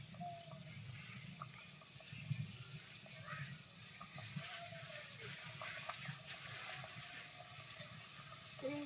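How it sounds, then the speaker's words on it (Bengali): Puli pitha dropped one by one into hot oil in a wok, producing a soft, continuous bubbling sizzle with light clinks and scrapes close by. The frying stays fairly quiet throughout, and no clear talking is heard. "এখন তেল গরম হয়ে গেছে, আমি এক এক করে এবার দিয়ে দিচ্ছি।"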